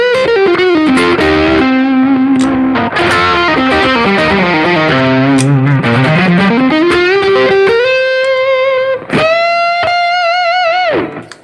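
Electric guitar with a P90 pickup played through distortion and effects, a loud melodic lead line with bends and slides, sustained notes and a short break before a final held, wavering note, no voices.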